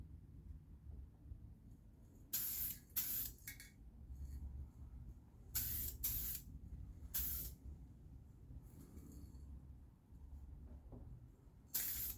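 Short bursts of aerosol spray hiss close by as a Jeep YJ body is painted, several quick sprays with quiet pauses between them and faint clinks of the can.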